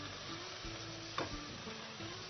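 Fresh bamboo shoots stir-fried with preserved mustard greens in a wok over high heat give off a close, steady sizzle throughout, broken by one brief clank of the spatula midway.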